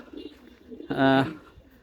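A loft of pigeons cooing, one strong, clear coo rising close by after a stretch of quieter murmuring, with faint speech in the background.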